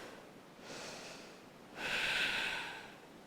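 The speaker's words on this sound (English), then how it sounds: "Take 2 more breaths." Slow breaths drawn by someone holding a yoga pose in a power flow class: a softer airy exhale, a short pause, then a louder, rougher in-breath through the nose, close and with no talking.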